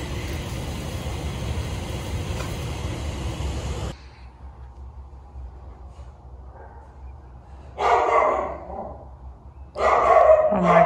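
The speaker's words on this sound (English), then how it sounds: "Can y'all teach him not to bark, please?" A dog barking during an outdoor play date with another dog, with a couple of loud, close bursts near the end after a stretch of steady background noise that drops to quiet.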